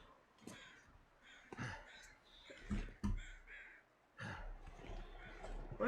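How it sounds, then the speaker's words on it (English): Crows cawing in the Long Dark wilderness of Hushed River Valley, several harsh calls in short bursts, fairly close, with a breathy noise floor between them. "What are those crows flying over?"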